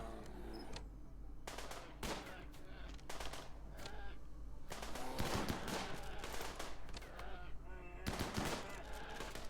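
Gunfire in the colony game Rimworld during a fight with bears in snowy terrain: faint, quiet bursts of rapid shots in several separated clusters over a low steady hum.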